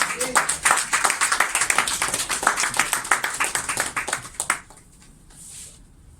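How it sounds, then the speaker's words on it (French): Church congregation clapping loudly and unevenly for the Lord for several seconds, with voices mixed in, then fading to quiet room noise. "Est-ce que tu peux acclamer très fort le Seigneur?"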